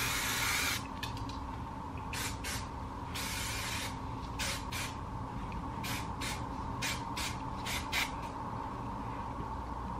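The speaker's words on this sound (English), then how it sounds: "Just do a good spray." Hairspray hisses onto hair in a series of short bursts, about a dozen sprays of varying length after one longer opening blast, over a steady low background hum.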